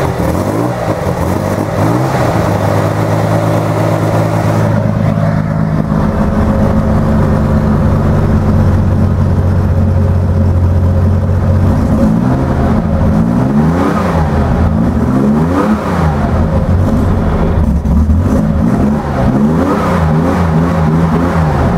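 Chevrolet Corvair engine cranked cold, then idling roughly and revved repeatedly in loud, close bursts, with throttle rising and falling through the second half.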